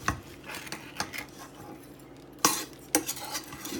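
Seasoned chicken feet with onions and pepper being mixed by hand or spoon in a bowl, giving close, irregular wet stirring and scraping with a few sharper clinks against the dish, no talking.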